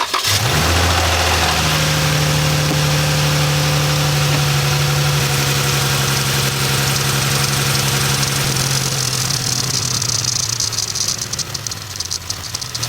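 A Chrysler 300 engine with an overheating problem cranks and catches, then settles into a steady, loud idle that continues throughout with a low rumbling drone.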